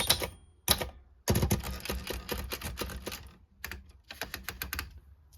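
Keys clack rapidly on a Florida or Swissa manual typewriter, close up, in bursts of fast strikes with short pauses between them.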